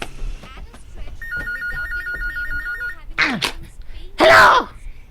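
A telephone rings with a rapid warbling trill for about two seconds, then people react in loud, overlapping exclamations and talk nearby.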